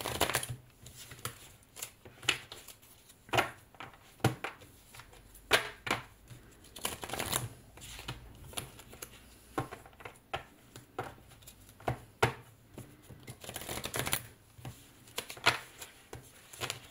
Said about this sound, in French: je vais mélanger en mode poker